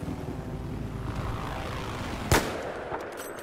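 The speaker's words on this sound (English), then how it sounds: "Enemy helicopter." A low, droning helicopter engine in a video game hums steadily, broken once by a sharp, loud gunshot.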